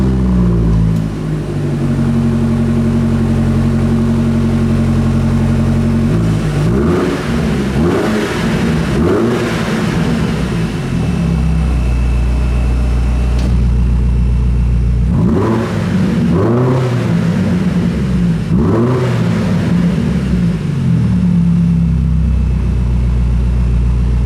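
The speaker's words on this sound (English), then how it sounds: "We can now hear the exhaust with its valves closed and then open." A 2022 BMW M5 CS exhaust idles with a steady burble, then revs sharply in repeated bursts. A quieter run with the valves closed is followed by louder, rawer blips with the valves open, heard close by.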